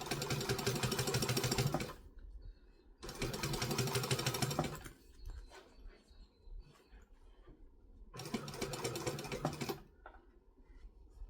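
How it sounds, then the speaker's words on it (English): A sewing machine stitches a seam on a Kangaroo sewing pattern in three loud, fast whirring bursts, with brief pauses and fabric handling between them, close to the listener. "This machine is probably excessive for this kind of sewing."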